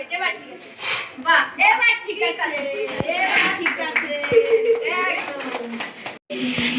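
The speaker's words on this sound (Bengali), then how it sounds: "কাকিমা হাততালি দিচ্ছে কেন?" Scattered hand claps ring out amid lively chatter and voices, with people talking throughout.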